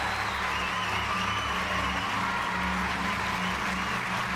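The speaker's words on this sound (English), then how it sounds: "let me go ahead and drop some claps for y'all" An applause sound effect plays for an audience: a dense, continuous wash of many hands clapping at an even level for several seconds, with no voices over it.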